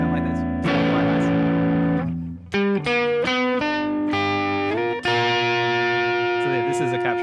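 Electric guitar played through a NAM capture of a Magnatone amp, single notes and short chord stabs ringing with a warm, slightly driven tone, separated by brief pauses and clean sustain.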